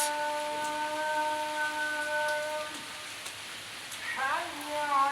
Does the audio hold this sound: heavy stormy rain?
yes